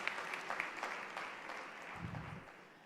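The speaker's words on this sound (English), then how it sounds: "Hand of applause." Faint audience applause at a university anniversary celebration, a soft scattered patter of clapping with a brief low murmur partway through.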